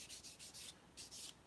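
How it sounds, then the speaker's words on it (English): Panzer III model road wheels being sanded by hand, a soft, close rasping rub in several quick back-and-forth strokes with short pauses, no voices. "Sanding road wheels."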